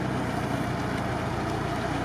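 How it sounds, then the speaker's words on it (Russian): Off-road vehicle engine idles steadily and close, a constant low rumble with wind noise and no talk, the motor running smoothly after its cylinder head was replaced. "Но мотор четко работает, Макс."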